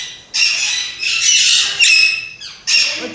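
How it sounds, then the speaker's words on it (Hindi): Young parrots, about two years old, let out loud, harsh squawks close by: four long, raspy calls in quick succession with short gaps between them. "ये राह है, ये राह के बच्चे बैठे हैं, तकरीबन कोई 2 साल के हैं।"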